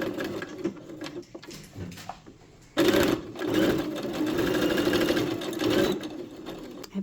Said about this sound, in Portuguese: vamos costurar na nossa máquina reta